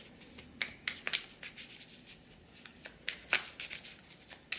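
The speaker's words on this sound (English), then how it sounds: "I'll try to edit most of this shuffling out for you so you're not sitting around watching for 5 minutes as I shuffle" Tarot cards shuffled by hand in quiet room, a steady run of soft crisp riffles and flicks with sharper snaps now and then, close and fairly faint.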